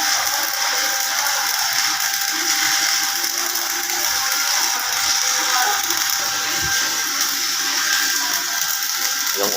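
An Esab Rogue ES 200 stick welder, set around 120 amps, burns an electrode with a steady, loud crackling buzz that runs continuously without a break.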